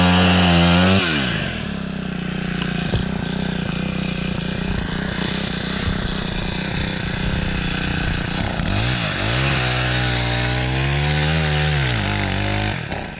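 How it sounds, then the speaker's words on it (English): Chainsaw cutting wood into small pieces, engine loud and close with a steady high whine that dips and revs at times, running nearly continuously throughout. "Somehow there's a bit of an issue with that chainsaw."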